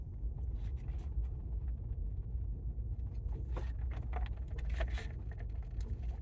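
A driveable tiny home rolls along a road in New Mexico, its engine and tyres producing a continuous low rumble with faint rattles and creaks from inside, steady throughout and without talk.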